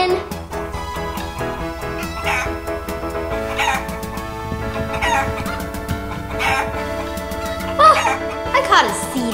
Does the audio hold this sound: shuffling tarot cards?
no